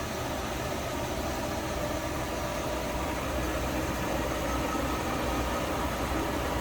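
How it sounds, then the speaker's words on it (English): A 1966 Ford Mustang convertible with a 289 V8 idles smoothly, a steady, even broadband rumble that holds unchanged throughout with no voices. "Smooth running, nice sounding 289."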